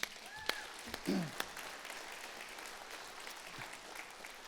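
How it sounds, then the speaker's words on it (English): Church congregation applauding a longtime member, a fairly quiet, distant patter of clapping with a few sharper claps standing out and a brief voice partway through. "Can you give her a round of applause for Nikki?"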